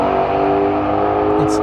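A 2020 Shelby GT500 with a high-revving supercharged engine, set to track mode, roars loudly and steadily at close range for under two seconds.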